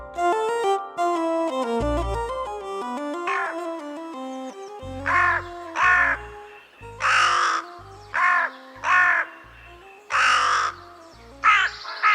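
A crow caws again and again in rough, loud bursts over a backing of plucked, melodic music. The calls come in a loose rhythm and grow more frequent in the second half.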